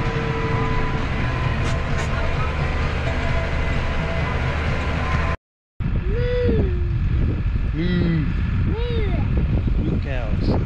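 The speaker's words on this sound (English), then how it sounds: "Pretty much my first time driving this tractor. The old man's new case." A new Case tractor driven on a farm while feeding out hay, its engine a constant loud drone with heavy wind buffeting, briefly cutting out before resuming as someone talks over it.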